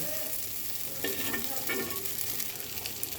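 A soybean curry is sautéed in a pan with a soft, continuous sizzle. Two brief bursts of stirring scrapes stand out near the middle.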